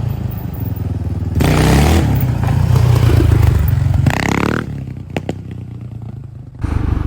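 A Yamaha 700 Raptor quad's engine rises into a loud, close rev as it lifts into a wheelie, then drops away and surges again amid clattering and scraping.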